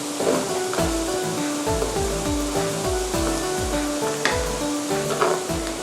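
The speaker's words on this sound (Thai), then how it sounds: "แล้วก็เจียวให้พอเหลืองหอมนะคะ" Garlic fries over medium heat in a pan, giving a steady close sizzle with light scraping and stirring strokes throughout, loud and unbroken, with a faint background hum and no voices.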